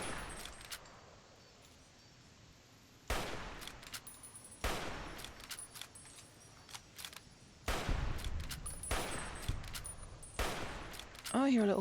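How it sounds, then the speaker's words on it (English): Bursts of gunfire from shooting at enemies in the video game Fallout, several loud volleys with sharp onsets spread through the clip, separated by quieter stretches of in-game ambience. "I'm shooting at these guys."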